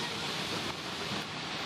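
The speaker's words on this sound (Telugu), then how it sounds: "బ్యూటిఫుల్ వాటర్ ఫాల్ పైనుంచి అలా కిందకు వస్తుంది." Hunua Falls in New Zealand pours down from above in a steady, dense rush of falling water, a continuous broad roar with no break and no voices.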